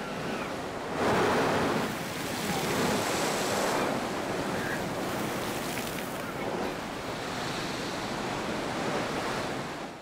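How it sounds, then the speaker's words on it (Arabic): Sea waves surge through rock blowholes on the coast of Oman, a steady roar of surf with wind noise and a louder rush near the start. "المنافذ الهوائية المشهورة تدفع أمواج مرتفعة نوافير المياه إلى الأعلى عبر ثقوب في"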